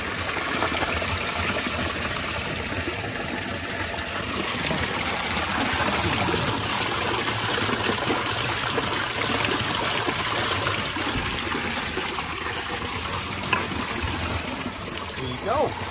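Fresh mountain water from the Japanese Alps pours steadily from a public drinking fountain outside Uozu train station, a continuous close splashing trickle with faint street ambience around it.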